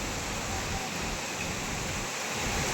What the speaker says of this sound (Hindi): बारिश देखो कितनी ज़ोर में हो रही है।